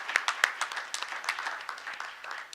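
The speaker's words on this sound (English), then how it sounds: "I'd like to give you a round of applause for all of their hard work and dedication." A small group applauds at a board meeting, scattered claps blending into a moderate, uneven patter for a few seconds.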